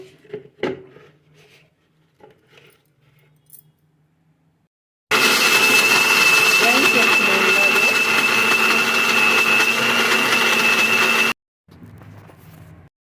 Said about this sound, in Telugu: గుజ్జు వేసుకొని రుబ్బుకున్నాము కొంచెం కొంచెం వేసుకున్నాము ఒకేసారి రుబ్బుకోకూడదు